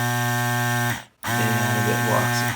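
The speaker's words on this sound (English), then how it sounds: "if I want to use my vacuum pickup tool" A vacuum pickup tool runs with a steady buzzing motor hum and rattles against a tabletop, cutting out briefly for a moment before starting up again and continuing to vibrate.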